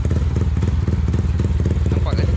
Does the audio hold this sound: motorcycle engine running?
yes